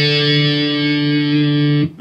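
Distorted electric guitar sustaining two notes from a song, a loud, buzzy tone ringing steadily for nearly two seconds before being cut off, with no talk over it.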